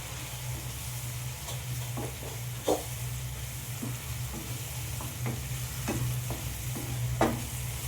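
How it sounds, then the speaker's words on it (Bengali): Vegetables sautéing with cooked spice masala in a pan for a vegetable dal: a low, steady frying hiss under a hum, broken by a few soft scraping stirs, with no voices. "এবার আমি ভেজিটেবলগুলো দিয়ে আর একবার ভালো করে কষিয়ে নেব মশলার সাথে"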